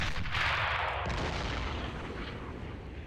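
Heavy cannon fire from a 4.7 gun booms in a Men of War: Assault Squad battle, a loud blast settling into a rumbling decay.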